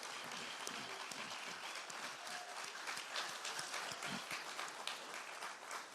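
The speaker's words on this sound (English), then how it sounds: "Let's give a big round of applause to these inductees among greatness tonight" An audience at a university athletic Hall of Fame banquet applauds its inductees: a steady, dense wash of many hands clapping that holds at an even level throughout, with no voice over it.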